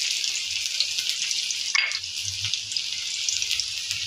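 Onions frying in hot oil in a wok for a prawn bhuna, with a steady bright sizzle throughout, a brief louder burst near the middle as they hit the oil, and faint low clatter underneath.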